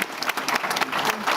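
Conference audience at a maritime report launch panel claps steadily in dense, even applause, close and fairly loud throughout the short burst.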